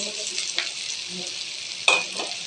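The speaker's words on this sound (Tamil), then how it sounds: "பூண்டு பச்சை மிளகா வெங்காயம் போட்டுக்கலாம் நல்லா வதக்கிடலாம்" Onions, garlic and green chili sizzle and fry in a pan, with a steady close hiss and occasional stirring scrapes, one louder clack near the end.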